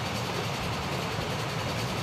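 Train rolling along rails in the Transport Fever simulation game, a steady continuous rumble with a hissy wash on top, moderately distant and unbroken throughout with no talk.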